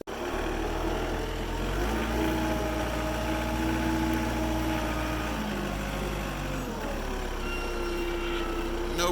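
Diesel engine of a log-loading machine with a light grapple idles steadily and close by, a continuous low rumble with a slight shift in pitch partway through and no talking.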